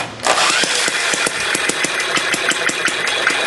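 A small six-cycle engine under repair, spun up with a drill, fires in a rapid, steady series of loud pops, running continuously and close up without any voices.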